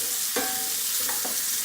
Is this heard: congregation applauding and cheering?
no